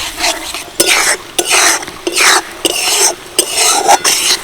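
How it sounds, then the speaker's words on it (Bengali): Capsicum and onion with a sauce mixture sizzle loudly in a pan while a spoon stirs them in repeated bursts, each scrape and hiss close and rhythmic with short pauses between strokes, with no voices. "হালকা একটু নাড়াচাড়া করে নেব"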